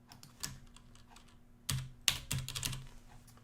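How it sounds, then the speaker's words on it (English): Computer keys are typed at a desk while setting up a COBOL compiler, as a few scattered taps, quick clusters and sharper strokes, close and fairly quiet, with no talking. "keep typing that in wrong"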